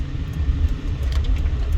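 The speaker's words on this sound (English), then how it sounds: "I got a car right behind me, so I can't mess around." A car driving close behind on Silver Road in Las Vegas produces a steady low road rumble and engine drone, loud and continuous, with no speech.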